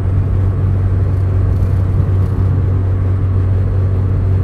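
A car driving along, heard from inside as a constant low engine and road rumble with a steady hum, loud and unbroken throughout.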